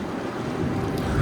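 River water flowing, a steady broad rushing wash with wind buffeting the microphone, loud and continuous without pause for the whole brief stretch.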